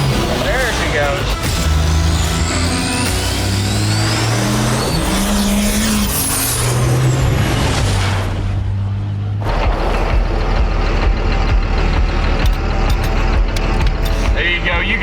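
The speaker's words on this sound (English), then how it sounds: "It can do some sick burnouts" A Cummins diesel truck does a burnout, its engine roaring loud and near with revving pitch sweeps and squealing tyre noise over the first half, then a steady heavy rumble; voices talk over it.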